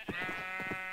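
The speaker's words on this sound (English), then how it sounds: "There's so many sheep around me." Several sheep bleat in the Minecraft video game, a run of short, close bleats repeating in quick succession over a steady background tone, with no talking.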